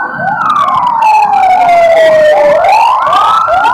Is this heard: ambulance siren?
yes